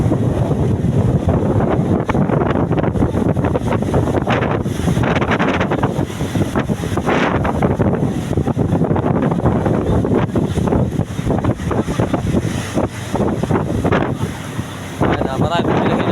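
Strong, steady wind buffets the microphone on the open Pacific, a continuous loud roar with the wash of waves and a small boat underneath.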